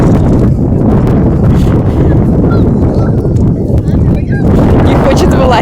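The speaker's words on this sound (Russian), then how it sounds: "Сегодня дует сильный ветер." Strong wind battering the microphone outdoors in Antalya, a loud, dense low roar that barely lets up, with a voice faintly talking beneath it.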